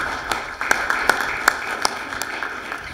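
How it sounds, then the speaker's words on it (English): Scattered applause for a past president of the AOH at an Irish heritage celebration, a handful of distinct sharp claps spaced irregularly over a roomy background murmur. "was given another round of applause"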